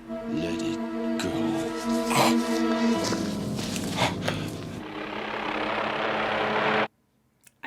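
Helicopter drone from a movie scene, a steady rotor and engine hum with tonal bands running for about seven seconds beneath other film sounds, then cutting off abruptly into near silence.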